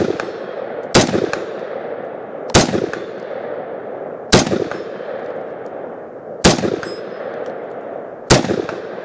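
Five single shots from an IWI Tavor X95 bullpup rifle at an outdoor range, each a loud, sharp crack with a ringing tail, spaced about two seconds apart in a slow, even rhythm.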